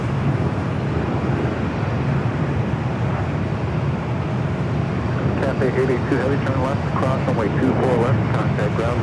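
A heavy Boeing 777 airliner at Los Angeles LAX airport makes a loud, steady broadband jet roar for the whole stretch, with faint voices murmuring underneath.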